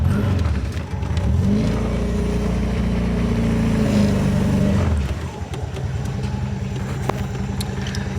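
A car engine fitted with a Weber carburetor runs at idle with a close, even rumble for several seconds, then settles into a lower, rougher murmur.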